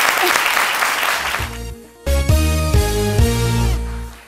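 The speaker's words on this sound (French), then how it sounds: "je voudrais qu'on puisse applaudir très très fort ensemble pour recevoir Jean-Michel Honard" A studio audience applauds loudly at a French-language TV talk show for the arrival of a guest. The dense clapping lasts about a second and a half before fading, and then music with strong bass notes takes over.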